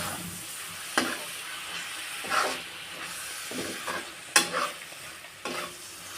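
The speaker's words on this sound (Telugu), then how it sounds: "ఇంకొక 5 మినిట్స్ ఉడికించుకోవాలండి. ఫ్రై అవుతుంది." Chicken pieces frying in a pan for a Telugu-style chukka kura chicken fry, giving a steady sizzle and hiss with steam, broken by several louder bursts as the pan is stirred.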